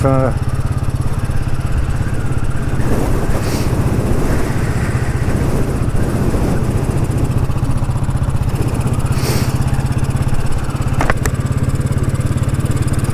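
Heavy, steady wind roar buffets the microphone while riding a motorcycle into a dead headwind, with engine drone underneath and brief voice bursts over it.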